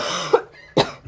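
Two sharp coughs from a woman in a radio drama, the first short and the second louder and fuller, followed by a faint throat noise, with no talk over them.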